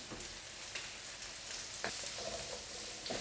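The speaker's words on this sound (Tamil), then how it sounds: "பூண்டு, இஞ்சி, வெங்காயம் போட்டிருக்கேன். இப்போ இது நல்லா வதங்கணும்." Onion, garlic and ginger sauté in a hot pan for a Tamil tomato chutney, giving a steady, close, even sizzle with a few brief stirring scrapes and no voices over it.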